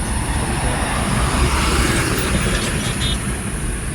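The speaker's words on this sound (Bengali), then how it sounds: "সেকেন্ড ব্রিজের উপর দিয়ে রেল মালগাড়ি যাচ্ছে" A loud, steady rumbling roar of a freight train rolling across the Kolaghat bridge, continuous and close throughout, with a faint high metallic squeal.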